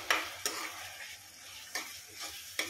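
Tomato softening in oil in a pan, a quiet low sizzle with a few sharp stirring scrapes spread across it, close up, no speech.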